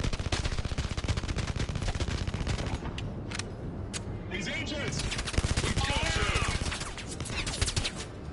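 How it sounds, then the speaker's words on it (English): Rapid, loud bursts of gunfire fill a VR shooter, Blood & Truth, with dense machine-gun volleys and single shots in steady succession, briefly thinning in the middle before the firing resumes, with a voice talking underneath. "Where's this other guy shooting from?"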